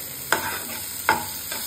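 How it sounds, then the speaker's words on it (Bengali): Chopped tomato and onion frying in a pan, stirred with two distinct scrapes about a second apart over a steady background sizzle, close and moderately loud. "একসঙ্গে ভালোভাবে ভেজে নেব।"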